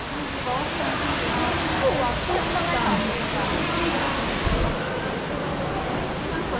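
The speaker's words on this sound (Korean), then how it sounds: "오 여기 폭포 민규야" Steady broadband rush of an indoor waterfall in a Singapore garden dome, continuous and fairly loud, with faint background voices mixed in.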